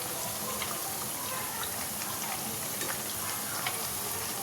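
Onion fritters (peyaji) fry in hot oil, giving a steady, dense sizzling hiss that stays close and even throughout, with no voices.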